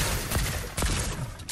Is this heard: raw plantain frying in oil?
no